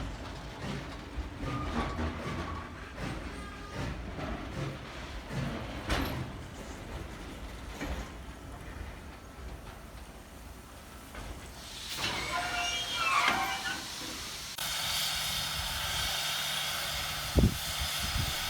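Steam locomotive 3001 shunts carriages into a museum train hall at Thirlmere, New South Wales: rolling wagon rumble, clanks and faint hiss build over time, ending with a steady loud steam hiss and a sharp bang.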